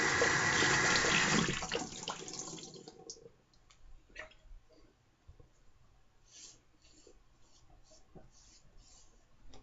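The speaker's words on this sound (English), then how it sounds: "A water rinse." A razor blade is rinsed under running water, a loud close splash and gush for a couple of seconds that fades into faint drips and small clicks.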